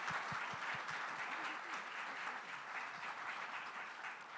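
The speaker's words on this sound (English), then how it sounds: "can we give the team and the leaders a huge round of applause?" Steady applause from an audience at an award keynote luncheon, a dense wash of clapping heard from a distance and fairly quiet, holding evenly for several seconds with no talk over it.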